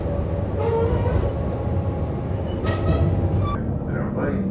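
A Moscow tram rumbles steadily along its tracks from inside the car, with a low rolling drone, faint squeals and a brief higher screech near the middle, a voice murmuring underneath.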